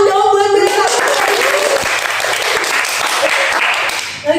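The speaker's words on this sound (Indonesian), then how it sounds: "tepuk tangan dong buat mereka" An audience at an Indonesian youth ambassador talk event claps for the guests, a loud, sustained wash of many hands clapping, with a voice briefly heard over it at the start.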